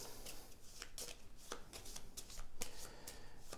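Cards from a Pentaquark board game are handled and shuffled close by, with a steady papery riffle broken by sharp snaps, and no one speaking.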